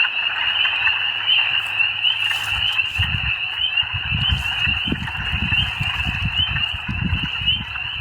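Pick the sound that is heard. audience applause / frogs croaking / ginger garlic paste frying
frogs croaking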